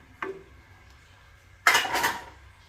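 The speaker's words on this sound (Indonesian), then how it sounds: "Tinggal diaduk-aduk aja gini" A spoon knocks once against a pan, then after a pause scrapes and rattles through a bubbling onion spice paste in a short burst of stirring, close by and with no voices.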